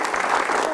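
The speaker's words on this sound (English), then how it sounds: "Round of applause." Audience clapping in a round of applause after a speaker's introduction at a talk, dense and fairly loud through a brief burst.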